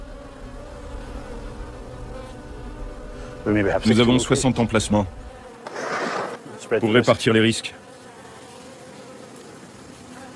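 Honey bees of the aggressive black bee type buzz steadily around beehives in a harsh Scottish climate, a continuous insect drone running under a man's speech.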